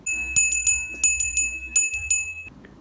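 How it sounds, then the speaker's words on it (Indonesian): A school bell rings to call students back to class, struck in a quick series of bright metallic rings with a rhythmic pattern, loud and close, then dying away into quiet room tone at the end. "pertanda bel masuk kelas pun berbunyi."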